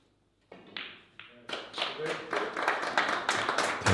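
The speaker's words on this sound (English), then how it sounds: "Round of applause." Applause breaks out at a snooker club. A few scattered claps start it, then a small crowd joins in and the clapping grows denser and louder toward the end.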